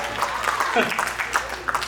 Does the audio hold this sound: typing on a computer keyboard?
no